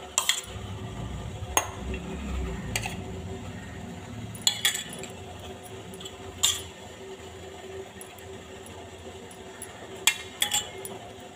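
A metal spoon clinks against idli mould plates as sabudana batter is spooned into each cavity. Sharp, bright taps come every second or two, with soft scraping and stirring between them, close by and fairly quiet.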